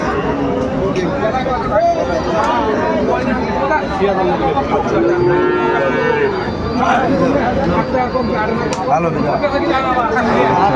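Cattle, including Sahiwal bulls, moo repeatedly at a cattle market in Kurigram, Bangladesh, amid a busy crowd, with many people chattering loudly and constantly in the background.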